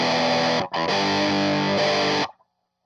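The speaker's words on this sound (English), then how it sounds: "Let's see how this one does with the Boss Turbo Distortion DS2." A Les Paul Studio electric guitar plays through a Boss Turbo Distortion DS2 pedal, a loud, saturated chord that cuts out briefly, strikes again and sustains before stopping abruptly.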